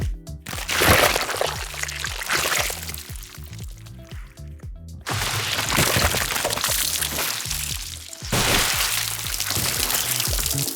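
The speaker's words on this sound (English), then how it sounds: "I looked at different bits like flowing, gushing, spraying, and dripping blood effects" Wet, squelchy blood sound effects pour and gush in bursts, with drips and splashes and a few brief pauses between surges.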